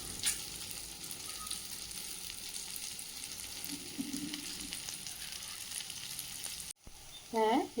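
Sweet potato paniyaram sizzles steadily in a pan for most of the stretch, a continuous close frying hiss that cuts off abruptly near the end before a brief voice-like sound.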